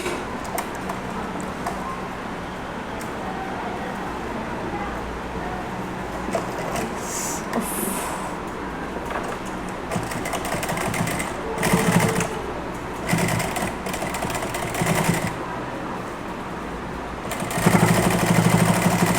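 A sewing machine stitches a designer neck with a fast steady mechanical whir and ticking, running continuously with brief pauses and shifts in speed, and a louder burst near the end.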